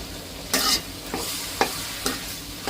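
Meat curry being stirred in a pan, with about five scraping strokes at an uneven pace over a soft, steady sizzle, close by and with no talking.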